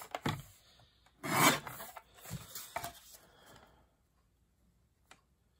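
Rasping cuts and rubbing come from trimming the edge of a handmade paper craft folder: several short, fairly loud scratchy strokes close by, then near silence with one small tick at the end.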